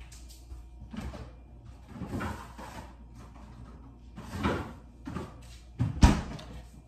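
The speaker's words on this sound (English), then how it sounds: "I just kicked my freezer door closed." A home freezer opened for ice and then kicked shut, heard as several soft handling bumps and rustles ending in a sharp thud near the end, close by in a quiet kitchen.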